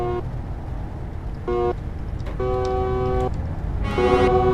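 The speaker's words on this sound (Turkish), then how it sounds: "Oğlum kornaya basma ya." Several short honks of a deep, harmonic truck horn in Euro Truck Simulator 2, sounded in bursts of varying length: a brief toot, a longer blast, then a final honk, over steady engine rumble.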